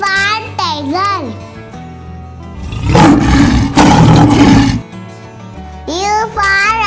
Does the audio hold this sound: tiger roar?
yes